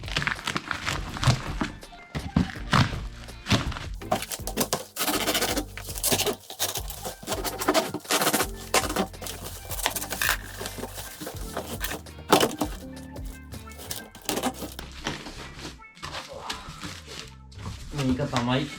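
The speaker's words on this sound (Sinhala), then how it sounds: "පාන් කපන පිහින් තමයි කපන්න වෙන්නේ මේක." A bread knife saws open a parcel received in Romania, making repeated rasping, scraping cuts and crinkles of packaging up close, with a person talking throughout.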